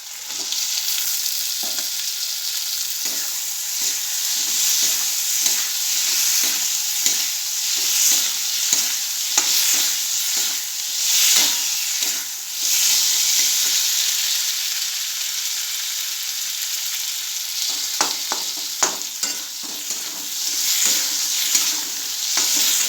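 Tomatoes fry in a hot pan with steady, bright sizzling, broken up by repeated scraping and clacking as a spoon stirs them. The sound is close and continuous, with no one speaking.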